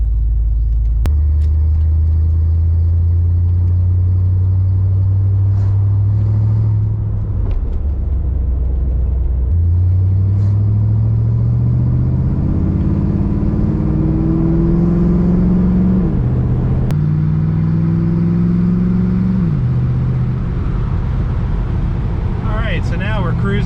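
A 1992 Ford Mustang LX 5.0 convertible with a V8 cruising on the road, its low engine drone rising and falling through gear changes, loud and close throughout, with a person talking over it.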